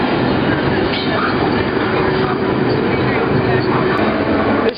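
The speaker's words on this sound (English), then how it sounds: "This train is making a left to the High Line." A freight train rolls steadily past near a bridge, a loud, continuous rumble of rail cars with rattling wheels that keeps up without a break.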